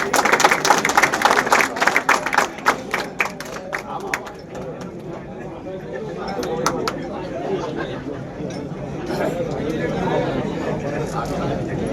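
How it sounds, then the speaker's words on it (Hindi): An audience at a truck operators' association event in Indore claps loudly in a dense burst that fades after a few seconds, followed by crowd chatter and someone speaking. "जोरदार तालियों के साथ"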